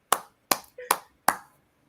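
Four sharp, close hand claps come at an even rhythm about half a second apart, each dying quickly, with a brief soft vocal sound between two of them.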